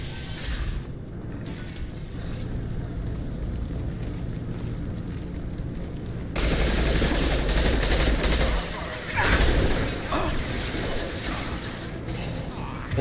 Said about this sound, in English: That's maybe a bit far for this machine gun